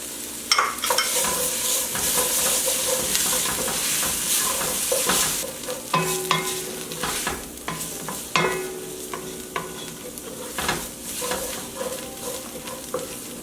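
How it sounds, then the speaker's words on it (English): Tomato paste and onions sizzle and fry steadily in a pan for Vietnamese beef stew, with intermittent scraping and stirring clinks from a utensil, close and fairly loud throughout. "our tomato paste and onions have been cooking for a few minutes"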